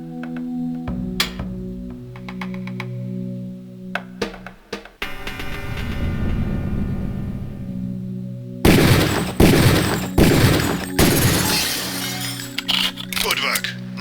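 Gunfire at training targets in the Deus Ex training level, first sparse sharp cracks between gaps, then a dense rapid burst of loud shots in the final seconds, over droning game ambience.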